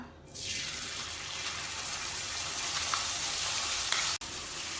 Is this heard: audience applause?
no